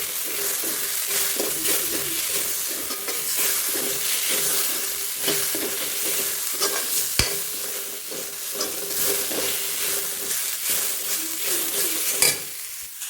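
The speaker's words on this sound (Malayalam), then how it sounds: "നമ്മൾ അരിഞ്ഞു വെച്ചിരിക്കുന്ന പച്ചമുളക്, തക്കാളി, കറിവേപ്പില എല്ലാം ഇട്ട് നല്ലപോലെ വീണ്ടും വഴറ്റുക" Chopped onions sauté in hot oil with green chilies, tomato and curry leaves for a chicken curry, making a loud, constant sizzle with steady stirring and scraping of a spoon against the pan.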